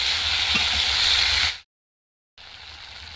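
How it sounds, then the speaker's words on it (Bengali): Cut potatoes fry in oil for an egg curry, a loud, steady sizzling hiss with faint stirring that cuts out briefly to silence, then resumes more quietly. "এবার আমি কেটে রাখা আলুগুলো দিয়ে দেব। এইভাবে নাড়তে নাড়তে আলুগুলো সেদ্ধ করে নেব।"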